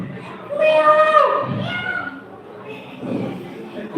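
A voice imitates a cat meowing, a drawn-out, wavering mewing call followed by a shorter second meow, during a Balinese storytelling competition.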